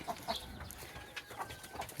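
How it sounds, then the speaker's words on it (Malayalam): Chickens at an Uzbek farmhouse give scattered short clucks, several separate calls over about two seconds, faint and somewhat distant against quiet outdoor background. "ഒരു പത്തൻപത് കോഴികളുണ്ട്"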